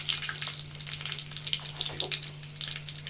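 Chicken vegetable rolls frying in oil over a medium flame give a continuous bubbling sizzle with crackly bursts, close and fairly loud, over a low steady hum.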